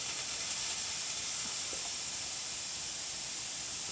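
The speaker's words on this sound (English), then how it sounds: "Then we're going to test the steam." A continuous, even hiss of steam jetting from a La Pavoni Professional espresso machine steam wand, close and steady without a break, with no voices.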